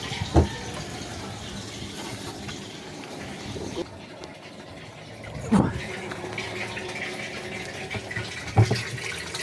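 Water running into a homemade household storage tank, a steady rushing fill close by, broken by a few sharp knocks and bumps, with a voice speaking intermittently over it.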